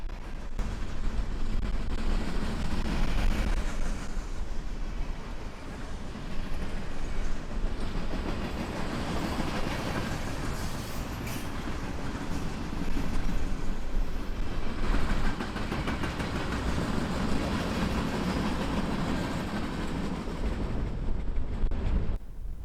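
Freight train loaded with Army equipment rolling through Tenino, a long continuous rumble with rhythmic clickety-clack of wheels over rail joints, loud and steady throughout.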